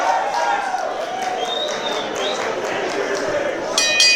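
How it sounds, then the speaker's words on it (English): A ring bell clangs briefly at a wrestling show start, rising over a steady hum of crowd noise and a commentator talking. "There's the bell."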